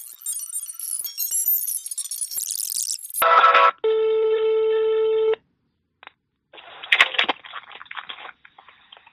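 Customer service phone line tones: a bright electronic hold tone, then a short burst and a steady multi-pitched dial or signal tone, a silent gap, and scattered clicks and beeps, all loud and close over the handset.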